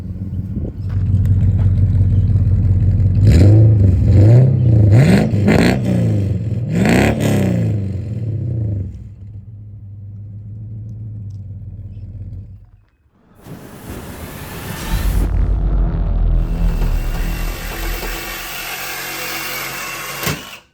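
A Ford LTD or Fairlane engine on a hoist after muffler repairs revs up several times in rising, throaty surges, then idles steadily before a short pause and another loud, sustained run.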